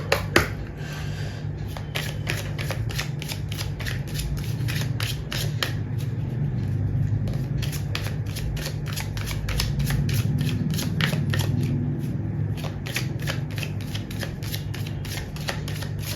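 Tarot cards are shuffled and handled in a steady run of soft, rapid riffling clicks, held at an even loudness throughout over a low background hum, with no talking.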